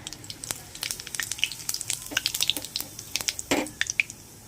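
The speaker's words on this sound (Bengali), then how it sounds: "তেল আমার গরম হয়ে গেছে। এবার এক এক করে আমি এর মধ্যে প্রথমে শুকনো লঙ্কা দিয়ে দেব, দিয়ে দেবো গোটা জিরে" Dry red chillies and whole cumin hit hot oil and crackle, with quick sharp pops and spits over a faint sizzle that become busier partway through before tapering off.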